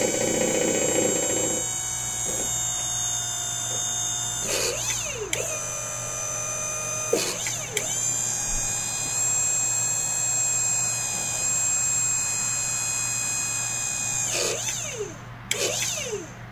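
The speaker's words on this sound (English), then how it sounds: "this is the log turner all the way up from side supports down to full extension" The hydraulic log turner and clamp on an LT35 sawmill run with a steady high-pitched whine over a low hum, with several pitch-shifting surges as the arms move and stop.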